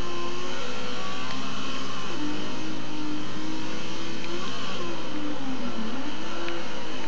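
Engine of a race car in Forza Motorsport 4, played without driving assists, whining and revving steadily as it climbs and dips through gear changes, loud and continuous.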